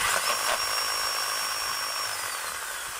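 A noisy chipping hammer, model 5810, runs steadily with a loud, continuous buzzing motor whine that holds throughout without pause.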